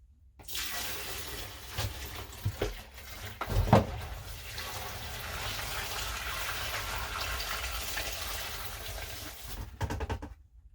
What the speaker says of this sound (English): Now we're going to fill this bucket up with water and dump it down the toilet.